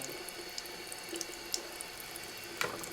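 Tap water running steadily into a sink while a watercolour water brush is rinsed to clear its sizing, a quiet continuous stream with small splashes and drips.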